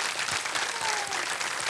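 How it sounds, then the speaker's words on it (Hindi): Steady, dense applause from a studio audience at a televised quiz game show, loud and sustained throughout. "तालियां बज जाएं इनके लिए."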